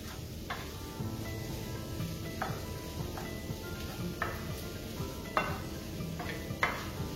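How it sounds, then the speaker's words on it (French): A spoon stirs a butternut squash and stuffing mixture in a hot pan, giving intermittent soft scrapes and taps over a steady low sizzle. "Maintenant, je vais tout mélanger. Avec la farce."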